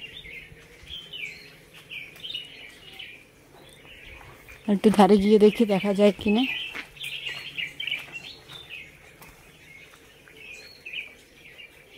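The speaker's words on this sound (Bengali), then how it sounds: "দেখো কত পাখি।" Birds chirp from papaya and custard apple trees in a small kitchen garden, steady faint calls in the background throughout, while people talk nearby and a louder voice briefly covers the calls midway.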